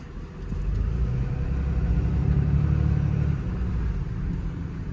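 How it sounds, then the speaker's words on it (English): Exhaust brake on a 2022 Ram 5500 crew cab 4x4 mechanics truck, a deep, steady engine rumble that swells and then eases off, heard close and alone. "Exhaust brake works great"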